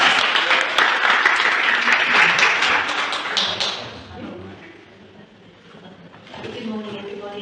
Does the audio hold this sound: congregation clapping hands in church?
yes